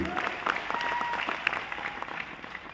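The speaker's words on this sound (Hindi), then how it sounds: "मिस्टर महिपाल सर के लिए जोरदार तालियां होनी चाहिए" An audience claps for Mr. Mahipal at a talk about a milk seller's life; moderately loud, steady applause runs the full length with a faint tonal hum beneath and no speech.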